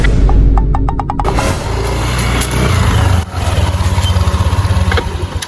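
A Yamaha Mio motorcycle starting up and then idling close by, its engine loud and running with a steady, pulsing putter. One brief dip in the sound comes partway through.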